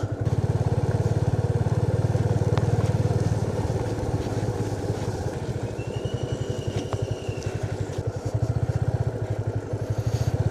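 A motorcycle engine runs steadily on a road through dense forest during a monsoon ride, with a close, loud chugging throb and faint high bird calls in the background.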